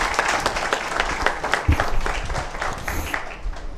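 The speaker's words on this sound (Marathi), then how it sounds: "एकदा जोरदार टाळी त्यांना आपण देऊयात." An audience at a teachers' award ceremony applauds loudly, a dense, sustained round of clapping from many hands that continues throughout and eases slightly near the end.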